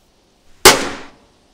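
An Explosive 3 firecracker of 0.5 grams bursts inside a kitchen stove oven: a single loud, sharp bang with a short ringing metallic decay, preceded by a faint tick.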